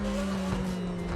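Steady engine hum of a McLaren 720S in The Crew 2, a sustained tonal drone holding a constant pitch for about a second, close and even in level.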